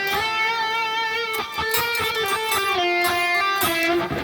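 An electric guitar plays a melody in the Phrygian scale, with clear sustained notes changing in steady succession over a strummed backing, loud and close with no talking.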